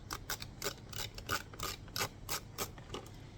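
Tiny screws being worked loose from interior trim panels on a 2023 Honda CR-V, a series of faint, close scraping and clicking turns in short repeated bursts with no talking.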